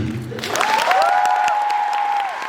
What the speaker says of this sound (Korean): 우리 스윙 되시게 큰 박수 박기영, 준범이